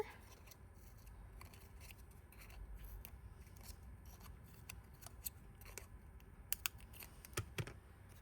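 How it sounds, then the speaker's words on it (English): Scissors snipping between the petals of a paper micro flower cut from a rose mini flower template, a run of quiet, close crisp cuts with a few sharper snips toward the end. "you're going to cut in between each petal towards the center"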